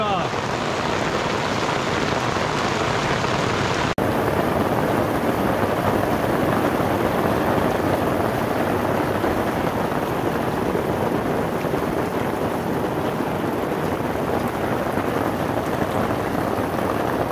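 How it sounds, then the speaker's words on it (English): Dense, steady patter of rain and hail drumming on a tent while camping in the Colorado backcountry, loud and close, with a brief sharper burst of impacts at the start. "Oh, goody. It's hailing now."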